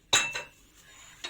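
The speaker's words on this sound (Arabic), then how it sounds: "وهقلب كده كل المكونات دي مع بعض." Spoon clinking against a bowl while mixing turnip pickle ingredients with salt, vinegar and blended beetroot: two sharp clinks close together, then a softer scrape and a third clink, close and fairly quiet.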